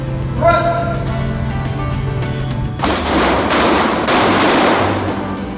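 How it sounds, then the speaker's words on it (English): Pistol shots at an indoor police shooting range, a sharp report with a booming echo that rings over a continuous hum and roar of the range. "new recruits will shoot their pistols at targets as far away as 25"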